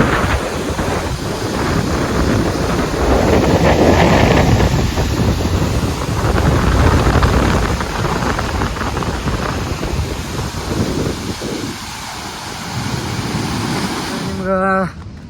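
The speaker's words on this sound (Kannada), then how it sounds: "ನೀರು ಹೊಂಟೈತಿ ಫುಲ್" A loud, continuous roar of floodwater rushing at Yogikolla near Gokak fills the clip, mixed with heavy wind buffeting the microphone, ending with a brief voice.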